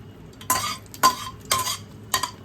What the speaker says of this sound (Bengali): লঙ্কাটা হালকা নাড়াচাড়া করে নিলাম।